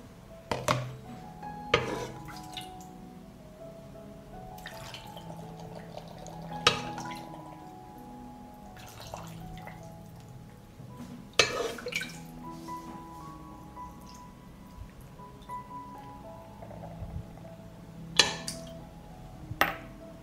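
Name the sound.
marinade being poured into glass jars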